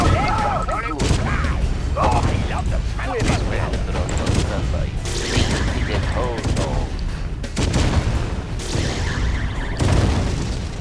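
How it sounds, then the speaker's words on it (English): Gatling cannons in the Yuri's Revenge strategy game fire repeated bursts of booming, clattering shots among explosions and mechanical unit sounds, loud and dense throughout, with game voice lines breaking in. "And now the Gatling cannons can finish this stuff off."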